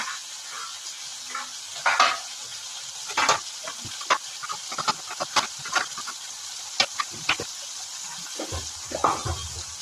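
Fritters frying in a pan, crackling sizzle bursts in irregular clusters over quiet gaps, close and moderately loud, with a low rumble near the end.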